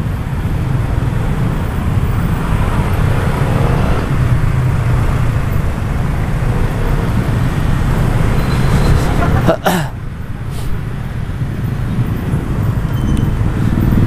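Steady roadway traffic on the congested commuter route from Tangerang to Jakarta, heard from a motorcycle: a constant engine drone and road rumble, broken by one brief sharp knock near the end.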